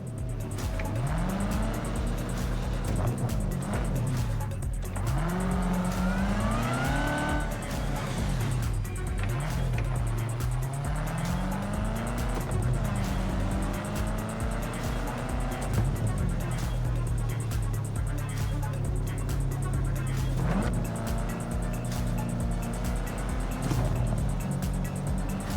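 A Mustang in Cyberpunk 2077 drives with a steady engine drone that rises and falls as it accelerates and revs, loud and continuous throughout, with a voice talking over parts of it.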